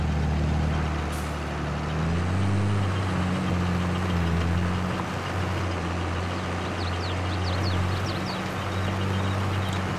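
A tractor engine in Farming Simulator 22 drones steadily for the whole stretch, a low, constant idle-like rumble that shifts pitch slightly as the load changes, loud and close, with no talking over it.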